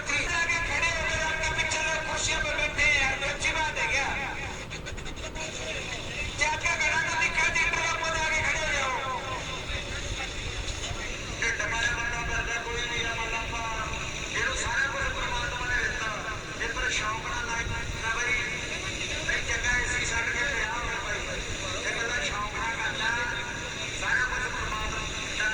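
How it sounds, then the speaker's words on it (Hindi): Tractors strain in a tractor tug-of-war contest at a village event in Kurukshetra, their engines droning and revving in long, wavering surges, heard at moderate distance beneath an announcer's continuous loudspeaker commentary. "हैप्पी सरपंच का ट्रैक्टर आ भाई।"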